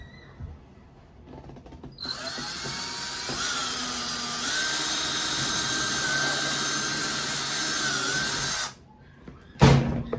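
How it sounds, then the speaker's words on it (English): A power drill bores a hole while building a parade float for a 12-inch doll, whining loudly and steadily for about seven seconds before stopping, followed by a brief clatter. "I'm going to drill."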